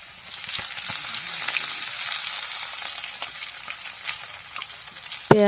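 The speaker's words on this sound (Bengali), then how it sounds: "কড়াতে দিয়ে দিলাম তেল, তেজপাতা, রসুন," Garlic, bay leaf and ginger fry in oil in a wok for chicken curry, a loud, close, continuous sizzle with stirring scrapes, ending in a sharp metallic clank.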